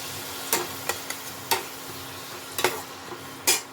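Peas frying in a pan for a cauliflower and egg korma, with a spoon scraping and clicking against the pan in scattered close knocks over a low steady sizzle.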